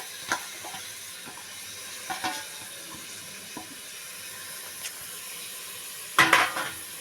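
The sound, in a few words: stirring fenugreek leaves into potato curry in a pan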